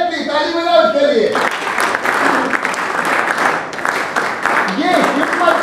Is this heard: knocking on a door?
no